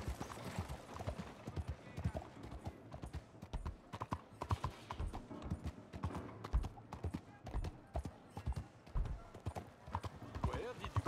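A horse's hooves clip-clop in a steady walking rhythm while being ridden in the WildRP Red Dead roleplay game, clear and close throughout, with people talking over the hoofbeats.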